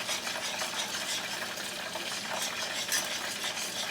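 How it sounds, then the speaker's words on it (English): A spoon stirs buffalo wing sauce made with apple cider vinegar in a pot, giving a continuous scraping swish with faint clinks over a steady background hiss. "Okay, stir this."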